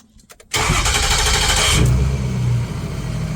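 A Ford 6.0 Powerstroke diesel, already at full operating temperature, hot starts after a brief quiet moment: a short crank catches almost at once into a loud, steady, rumbling idle close by, with no talking.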